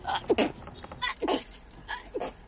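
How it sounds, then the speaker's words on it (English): Several short breathy bursts and sniffs, like a person building up to a sneeze, close by and fairly quiet. "Oh, I have to sneeze."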